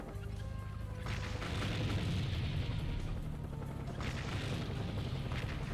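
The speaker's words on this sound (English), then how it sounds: "Carpet bomb." Carpet bomb explosions boom in the video game Seek and Destroy, two heavy rumbling blasts landing about three seconds apart, loud and close with a dense low roar.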